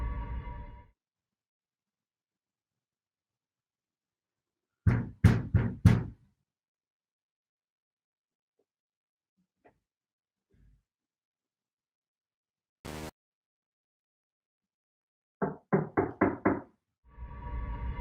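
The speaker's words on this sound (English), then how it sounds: "multiple police officers knocked on his door" Police officers knock on a residential door in several separate bursts of three to five sharp raps, with long silent gaps between the sets, heard close and clear.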